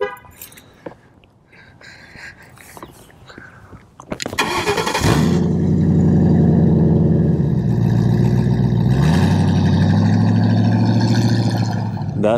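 A 2005 Mercury Grand Marquis GS starts up and pulls away, a quiet cabin with a few clicks giving way to a loud steady engine drone and road noise heard from inside the car, with a brief rise midway.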